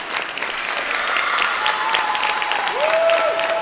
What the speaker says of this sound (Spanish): Aplausos del público.